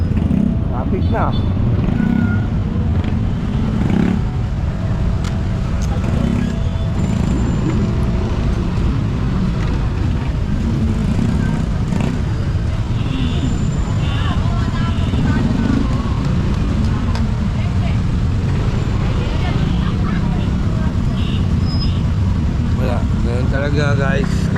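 Congested street in Moriones, Tondo, where car and motorcycle engines rumble continuously at close range and people keep talking over the steady traffic noise.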